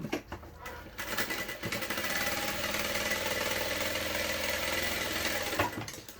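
A sewing machine stitches a backpack lining, its motor starting up and then running in one steady, close, buzzing whir for several seconds before stopping.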